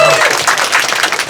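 A short burst of audience applause fills a poetry book concert hall, many hands clapping densely and loudly for just over a second.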